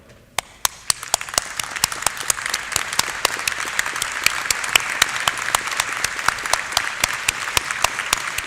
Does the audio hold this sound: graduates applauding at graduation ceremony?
yes